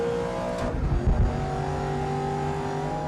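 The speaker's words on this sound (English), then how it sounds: "I love the sound of that backblast through the exhaust." A race car in the Grid Legends racing game roars close and loud with a steady engine note, broken by a couple of sharp exhaust pops.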